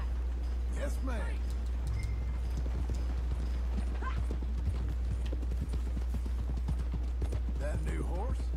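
Rhythmic hoof clip-clops from a horse ride along steadily in the video game Red Dead Redemption 2, under scattered talk and a constant low hum, with occasional mechanical clinks.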